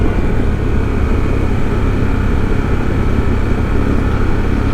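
A 2024 Harley-Davidson CVO motorcycle with the 1250 engine being ridden, giving a steady, loud, continuous engine drone with broadband rumble and no breaks across the stretch.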